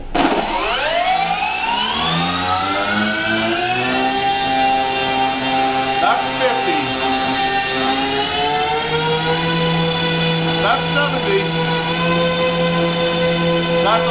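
An electric motor on an Avios BushMule RC plane spools up to high throttle, its whine climbing in pitch over the first seconds and then holding a loud, sustained, steady tone, close by.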